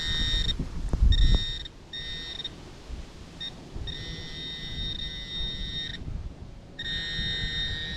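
A metal detector's high electronic tone sounds in several long, steady beeps separated by pauses, over soft rustling and a brief thump near the start, signalling a brass crush washer.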